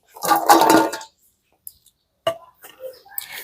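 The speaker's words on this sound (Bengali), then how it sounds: "তেঁতুলগুলোকে ভালো করে জলে ধুয়ে নেওয়ার জন্য আমি গামলায় কিছুটা জল নিয়ে নিয়েছি এবারে তেঁতুলগুলোকে দিয়ে দিচ্ছি" Raw tamarinds tumble into a basin of water with a brief burst of clattering and splashing, followed by a few scattered knocks and light handling noises.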